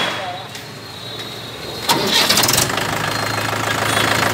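A 2015 Mahindra 575 DI tractor in good condition cranks and fires at about two seconds, then settles into a steady loud diesel idle, close by.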